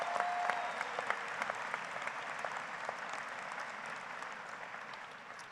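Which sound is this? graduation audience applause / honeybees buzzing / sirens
graduation audience applause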